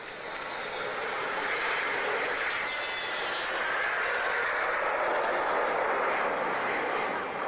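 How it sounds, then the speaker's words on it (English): Swedish Air Force Team 60 jets take off in a steady, loud, continuous roar with a broad hiss that swells slightly toward the end, with no talk over it. "we have Team 60 from the Swedish Air Force just getting airborne now from the left"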